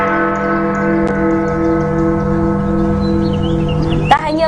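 A clock tower bell rings a sustained tone steadily with a long, humming resonance, loud and close, followed by a sharp metallic strike near the end.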